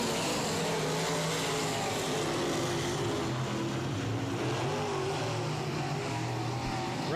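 Dirt trucks racing at I-37 Speedway, a continuous distant roar of several engines blending into a steady wash of noise with no clear individual passes.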